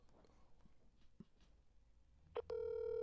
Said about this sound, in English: Princess Asleep is going to voicemail.